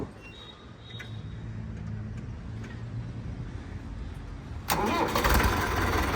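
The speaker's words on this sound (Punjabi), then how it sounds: "ਸਟਾਰਟ ਕਰਕੇ ਟਰੈਕਟਰ ਆਵਾਜ਼ ਚੈੱਕ ਕਰਿਓ ਬਾਈ ਟਰੈਕਟਰ ਦੀ" An Arjun 555 tractor's engine cranks and catches near the end, bursting into a loud diesel rumble after several seconds of quiet background hum.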